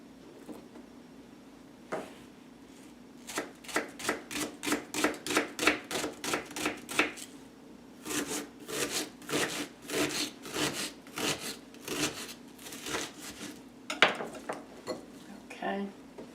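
A knife chops vegetables on a board for a shepherd's pie, with rapid, even strokes in long runs and brief pauses, close and fairly quiet.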